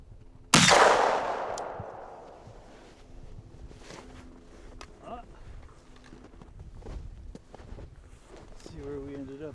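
A single loud rifle shot from a 5.56 during a wall penetration test cracks out near the start and decays into a long echoing tail, followed by quieter shuffling and handling noises.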